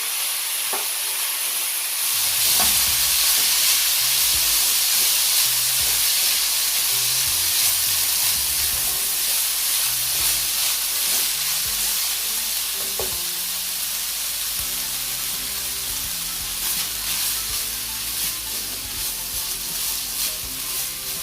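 Egg fried rice sizzles loudly in a pot while being stirred, a steady frying hiss with scraping stir strokes over about twenty seconds and no talking.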